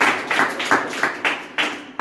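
Scattered hand claps from a church congregation at a 2024 Palm Sunday service, a handful of separate claps at uneven intervals, fairly quiet and without talk.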